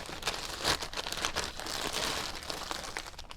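Crinkly tearing and crumpling of a mail package's wrapping as it is ripped open by hand, a close, busy run of dry rustles and rips with one sharper burst near the start, no talking.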